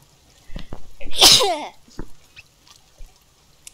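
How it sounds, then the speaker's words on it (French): A single sharp sneeze bursts out at close range, surrounded by small breathy sounds and a few faint clicks. "Je vais encore éternuer."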